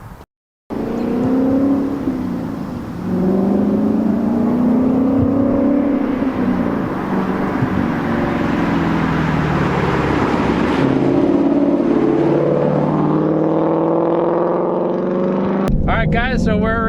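A 2019 Ford Mustang GT V8 with an upgraded exhaust revs and rises in pitch while driving, loud and close from inside the car, with a voice talking over the engine.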